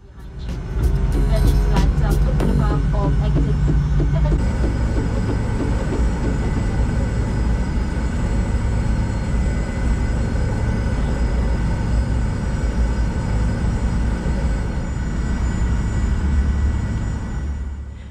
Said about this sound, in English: We taxied to runway 14 left via Alpha.